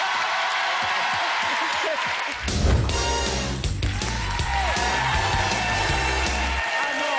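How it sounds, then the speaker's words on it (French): A studio audience on a French TV show bursts into loud applause and cheering, a dense wash of clapping and whoops that swells after a brief lull and holds steady, with a voice talking over it at the start. "Applaudissements."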